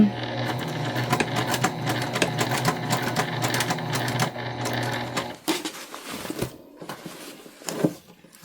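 A sewing machine stitches a cotton tote bag near its edge and through the handles, running in a fast, even rattle for about five seconds, then stopping and restarting in short bursts.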